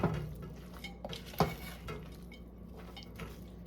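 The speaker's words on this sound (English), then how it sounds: "All right, let's mix." Spoon scraping and clinking through a pot of Polish sausage and sauerkraut, with several distinct knocks against the pot over a soft steady background, close and fairly quiet, no talking.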